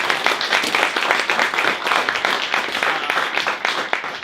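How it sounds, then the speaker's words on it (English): A meetup audience at a product design panel applauds the panelists, brisk, crisp clapping from a modest crowd, steady and fairly close, with no speech over it. "round of applause for these people for helping out"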